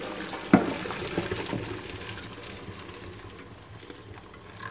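Cooked noodles and their water poured from a pot into a kitchen strainer, starting with a sharp splash and then tapering into a softer running, draining wash.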